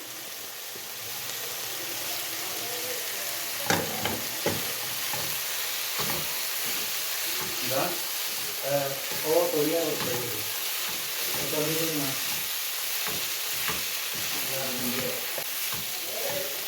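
Finely grated cabbage frying in a pan, a constant close sizzle broken by scraping stirs and clattering spoon strokes against the pan, with a voice briefly audible in the background.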